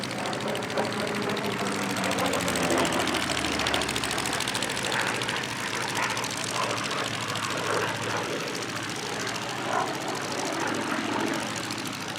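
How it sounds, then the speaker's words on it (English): Grumman Bearcat, a single-engine piston carrier fighter, runs its engine with a steady, loud propeller drone throughout at an airshow, holding a fairly constant level without pauses. "The Bearcat was Grumman's last single-engine piston fighter."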